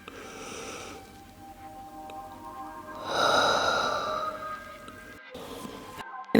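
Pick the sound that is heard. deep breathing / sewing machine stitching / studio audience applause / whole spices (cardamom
deep breathing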